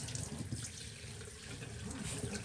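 Running water rinsing shampoo off a dog's coat during a home bath, a continuous close splashing and pouring that holds steady without pauses, and no one speaking.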